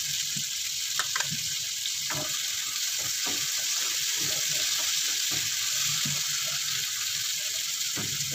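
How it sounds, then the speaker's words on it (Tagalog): Ingredients for a mung bean stew sauté with fish sauce in a pan, making a steady hiss of sizzling with scattered clicks and pops from stirring, and no voices. "Habang nagigisa tayo ng pansahog natin sa munggo."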